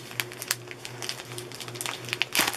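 A plastic package torn open by hand without cutting, giving a few sharp, close crinkling and crackling bursts that grow louder toward the end.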